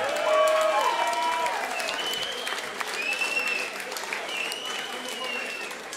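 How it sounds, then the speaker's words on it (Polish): Crowd at the Metropolia Jest Okey 2017 festival applauds a performance, a broad wash of clapping with some cheering and whistles, loud at first and then holding steady while a voice speaks faintly over it. "Wielkie brawa, proszę Państwa."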